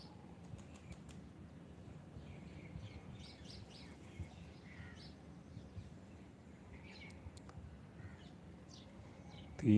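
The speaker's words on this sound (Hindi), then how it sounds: "पक्षियों की मधुर आवाज़, ठंडी ठंडी हवा का स्पर्श" Faint morning birdsong outdoors, scattered chirps and tweets at a distance over a steady low ambient hum, with a soft flutter of wings and no voices.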